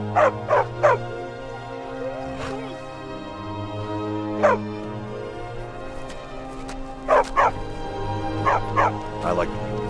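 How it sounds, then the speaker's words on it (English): A war dog in Skyrim barks in short bursts, a double yap, single barks, then a cluster of quick barks, over a steady low hum with faint voices in the background. "A war dog is good company"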